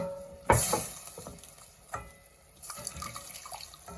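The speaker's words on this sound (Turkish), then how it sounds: "domates suyu eklemeye devam edeceğim" Tomato juice poured into tomato soup thickened with a flour roux in a pot, a liquid splash and trickle starting with a sharp onset, followed by softer sloshing and stirring clinks nearby.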